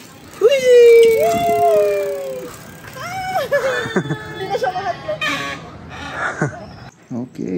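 A dog at a house gate in Jimenez, Misamis Occidental lets out long, whining howls and whimpers close by, with shorter yelps and voices following.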